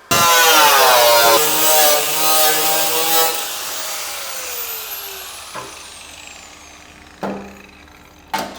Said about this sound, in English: Fucking hate angle grinders.